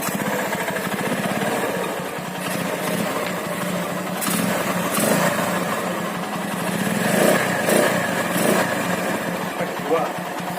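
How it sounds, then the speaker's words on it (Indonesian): A modified Honda CB motorcycle fitted with a Gapro Primus aftermarket exhaust runs and revs up close, its rough, throbbing engine note swelling in several bursts with voices faintly in the background. "Knalpot sudah ganti Gapro Primus ini, Bos."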